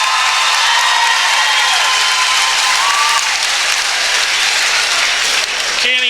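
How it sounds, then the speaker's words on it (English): A large grandstand crowd at a county fair dirt race track applauds and cheers loudly and steadily, a dense continuous roar of clapping that fills the whole stretch without letup. "You're going to have to cheer loud."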